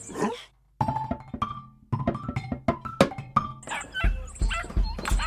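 A sniffer dog in a stage comedy gives a series of close, short barks, yips and whimpers with brief pauses between them, followed by a few dull thumps near the end.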